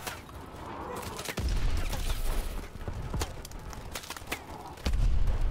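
Loud blasts and booming explosions in a Call of Duty: Advanced Warfare campaign mission inside a facility going up, with heavy low bursts at the start and again near the end amid continuous gunfire-like crackle.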